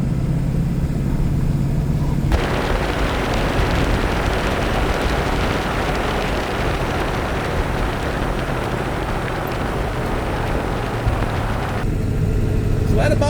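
A 1997 Ford F-SuperDuty with a 7.3 liter Powerstroke diesel runs with a dense, rough roar that swells loudly after a quieter idle and settles back down at the end; a voice talks over the quieter parts.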